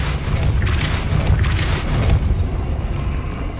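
A Depulso spell cast in Hogwarts Legacy gives a loud, rumbling magical blast with a dense low-frequency boom and whooshing bursts lasting a few seconds.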